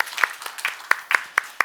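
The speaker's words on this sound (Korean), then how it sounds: "우리 박수로 한번 축복하겠습니다" A church congregation at a Sunday morning worship service claps to bless two families, giving sparse, uneven applause with a few sharp, distinct hand claps standing out against quiet gaps.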